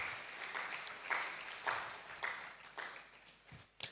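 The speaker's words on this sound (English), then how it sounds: "Please let's give them another round of applause." Audience at a youth leadership debate and conference gives a round of applause, fairly faint and distant, with clapping swelling in several uneven waves that fade out.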